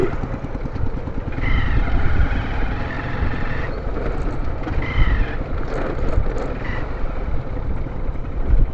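A motorcycle rides along a road, its engine holding a loud, steady drone throughout, with faint wind and road noise underneath.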